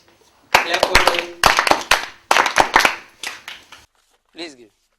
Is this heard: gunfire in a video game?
no